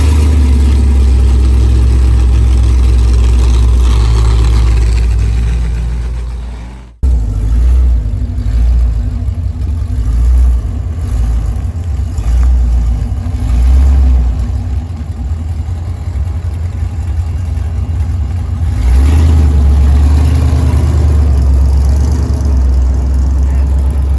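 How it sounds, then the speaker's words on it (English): Truck engine running steadily and loud through a brief test fire after transmission fluid was added, with one sharp dropout partway, then a continuous rumbling drone with slight rises in revs. "Jordan's going to give it a quick test fire and make sure that the wheels turn."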